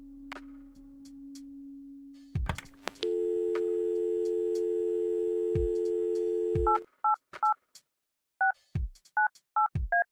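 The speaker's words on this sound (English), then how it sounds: "Our room phone. It's got an external line." Telephone dialing on a room phone in the Kathy Rain video game: a steady dial tone, a long sustained tone, then a quick run of separate DTMF keypad beeps in an irregular rhythm, loud and clear with no talk.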